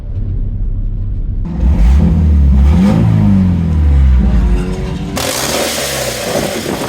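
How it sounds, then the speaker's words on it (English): A daily-driven car rolls back into a race track paddock, its engine revving under throttle with an off, unusual tone; loud and close, the revs climb and sweep in a few rising and falling surges. "as I went for any amount of throttle, the car was sounding a little different"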